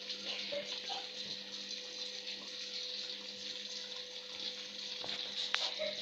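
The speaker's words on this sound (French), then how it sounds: "Et je rajoute encore un petit peu de l'eau." Water pours steadily into a cooking pot holding fish and vegetables, a continuous close gushing flow with a faint hum underneath and no talking.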